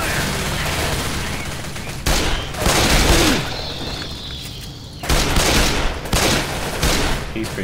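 Gunfire in the zombie shooter Left 4 Dead 2, subway level: loud, close bursts of rapid automatic shots come in several separated volleys with brief quieter gaps between them.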